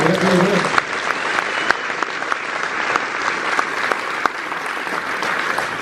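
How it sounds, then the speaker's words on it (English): A theatre audience at The Rep in Dundee applauds a play's director at a Q&A with a long, loud, dense round of clapping and a few sharper claps standing out. "So, yeah, take the applause"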